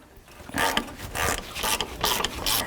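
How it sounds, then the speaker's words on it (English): A socket ratchet loosens a corroded bolt on the water pump inlet tube of a 1984-2001 Jeep Cherokee, with a close, continuous run of rapid pawl clicks in several bursts and no voices. "So I'm going to give it a shot with a regular socket."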